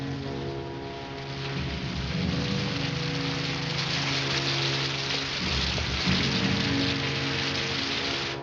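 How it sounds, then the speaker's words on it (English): Steady rain falls in a 1960s television drama scene, a dense continuous hiss of drops on a hard surface, fairly loud and unbroken with no voices over it. "I told you it was going to rain."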